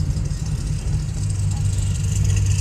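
A Chevrolet Camaro with a straight pipe exhaust rumbles loud and close, a deep steady drone that swells slightly toward the end.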